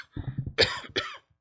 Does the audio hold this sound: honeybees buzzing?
no